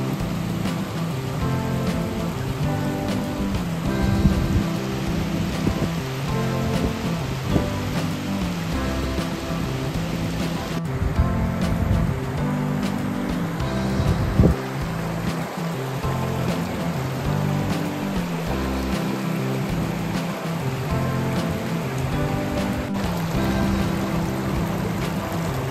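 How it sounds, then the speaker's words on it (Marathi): Gurgling stream water runs steadily alongside light monsoon drizzle in a hilly spot with mountains and mist, a dense, continuous wash of flowing water and soft rain with no voices. "पाण्याचा खळखळणारा आवाज"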